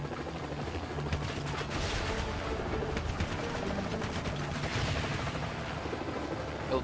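Helicopter rotor drone mixes with rapid bursts of gunfire in the top-down action video game Renegade Ops, a dense, continuous barrage of shots and explosions.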